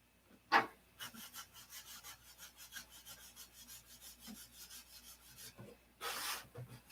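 Rhythmic hand sanding of car paint with 2000-grit paper, quick back-and-forth scratchy strokes repeating steadily, with a couple of louder scrapes standing out, close by and without speech.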